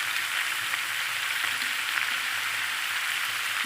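Turmeric, green chillies, chilli powder and ginger sizzle steadily in hot oil in a pan for a Bengali fish-head mixed-vegetable curry, a close, even frying hiss with no voices.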